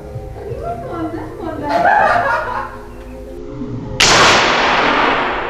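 A second test shot from an air rifle during an accuracy test, bursting in suddenly after talk and laughter and trailing off as a sustained noisy rush.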